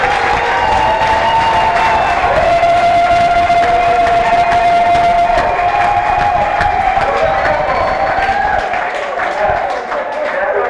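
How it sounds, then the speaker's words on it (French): A large outdoor crowd at a political gathering in Kinshasa claps and cheers loudly and continuously, with whoops and a sustained whistle-like tone over the applause. "je vous demande d'applaudir très fort pour lui"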